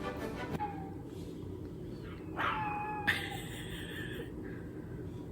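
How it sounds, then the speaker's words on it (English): A small dog howls and whimpers in a few drawn-out, wavering cries over a background of steady noise, heard fairly near without anyone talking. "What are you howling for?"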